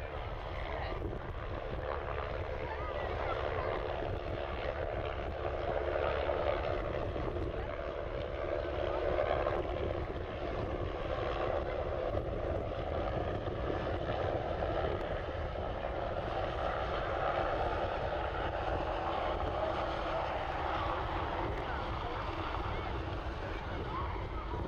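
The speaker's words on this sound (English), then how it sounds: "there's the squirrel helicopter with carrying a precious cargo of red tin coming in" A Squirrel helicopter arrives at a seaside air festival and armed forces weekend, a steady rotor and engine drone holding at moderate distance throughout, with wind buffeting the microphone and a commentator speaking over it.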